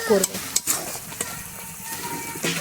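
Ginger tossed into garlic frying in a pan, with a steady sizzle, sharp stirring clinks and scrapes near the start and end, close and moderately loud, no talk.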